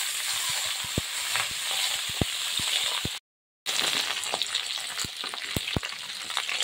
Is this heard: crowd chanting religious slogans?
no